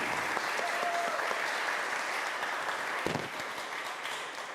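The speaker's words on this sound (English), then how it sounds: "Can we give them a round of applause for their courage, for running for office in this time?" An audience at a candidate forum applauds the candidates in a steady, even round of clapping at moderate distance, with a faint voice heard once amid it.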